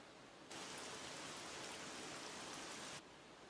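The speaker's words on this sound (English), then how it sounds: "Every time I've come to this shrine, there's been a total downpour." A heavy rain downpour at a shrine in an anime scene, a dense steady hiss that swells in suddenly, holds for about two and a half seconds and then drops back to a quieter patter, with no voices.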